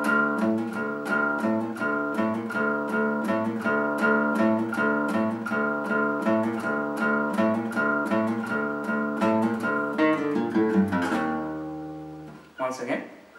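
Electric guitar playing a song's riff slowly, a steady run of close picked notes that ends in a final ringing chord, with a brief sound after it.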